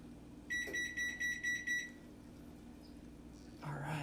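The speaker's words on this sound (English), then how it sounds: "Our oven just beeped." Kitchen oven timer beeping in a home kitchen during bread baking, a quick run of about six short electronic beeps, moderately close, then a faint clatter.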